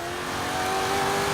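A Hennessey Venom GT with a 7 litre twin turbo V8 roars in Forza Horizon 3, a loud sustained engine drone with rising revs and no talk.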